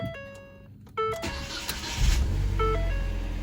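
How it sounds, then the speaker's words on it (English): A 2019 Ford Fiesta with a check engine light starts up: warning chimes, a short cranking burst, then the engine catching and settling into a steady idle, close by. "So now we're going to start the car up and see how it runs, see how it starts"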